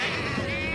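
Cartoon sheep bleat in a steady, continuous wavering cry that fills the short moment, loud and close with no talk over it.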